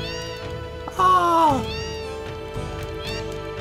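Cats meowing inside the cat house in Final Fantasy VII, with one loud, drawn-out meow near the middle and fainter mews around it. Game music plays underneath, and a person makes brief exclamations.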